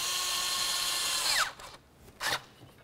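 Power tool driving a hose clamp tight on a 2006-12 Ford Fusion: a steady close whine for about a second and a half that winds down, then a brief second burst.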